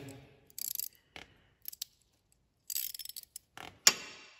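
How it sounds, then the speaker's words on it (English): Ratcheting end of an open-end wrench tightening a bolt while a Warn winch is installed on a Kawasaki Mule SX: short bursts of quick metallic clicking separated by pauses, fairly close, ending in a sharper clack. "using an open end wrench with this ratcheting"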